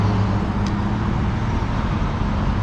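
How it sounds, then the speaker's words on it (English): Street traffic heard from a bike trail in Oldsmar near Tampa: a constant, loud wash of road noise and passing vehicles with no clear individual sounds. "Seems to be a lot of traffic today."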